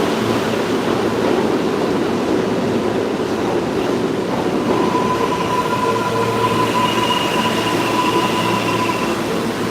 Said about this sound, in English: This is the J train.